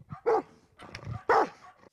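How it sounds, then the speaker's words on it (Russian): Dogs bark behind a fence, two loud close barks about a second apart with softer yelps and whines between them. "Съемочную группу встретил лишь дружный лай собак за забором."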